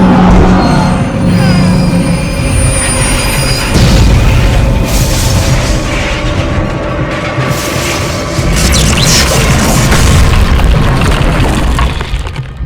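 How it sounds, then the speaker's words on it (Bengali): A massive explosion strikes a train on the track in an animated rail disaster, a loud, sustained roaring boom with crashing, rumbling debris that fills the whole stretch, with no voices. "ঠিক যখন ট্রেনটি সেই ট্র্যাকের কাছে পৌঁছালো, একটি প্রচণ্ড বিস্ফোরণ হলো।"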